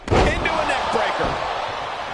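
A wrestler slams down onto the mat from a neck breaker in a 1992 WCW Starrcade tag-team match, a sharp loud impact right at the start followed by ringing crowd noise and arena din.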